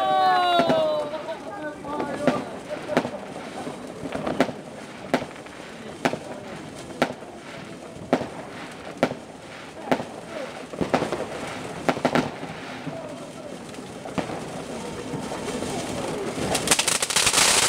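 New Year's Eve fireworks at a house party, loud bangs popping at roughly one- to two-second intervals amid crackling, with people talking and background bustle throughout.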